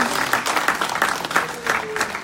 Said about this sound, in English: Give it up for another round of applause.